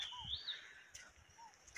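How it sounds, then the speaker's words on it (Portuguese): Small birds give several faint, high, quick chirps in a quiet rural setting near a pond, with short thin calls spaced a little apart. "Os passarinhos"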